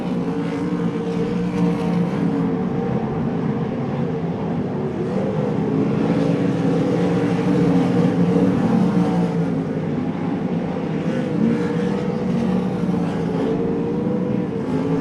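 Race cars engines roaring around the dirt track at Devils Bowl Speedway during a race with lapped traffic, a steady loud continuous drone of several engines held throughout without pause.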